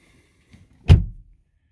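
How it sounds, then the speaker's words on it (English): A car door swings open with a single short, low clunk close by, followed by a brief fading rattle, with no voices. "Open the door, and it shows the car."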